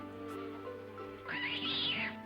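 A cat meows in the video game King's Quest III Remake: a single clear, rising-then-falling meow near the end, heard alone over a quiet musical background.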